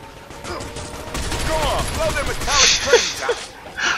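Video game gunfire crackles in quick bursts amid scattered sharp reports, with chirpy tonal game sounds and some background voices mixed in.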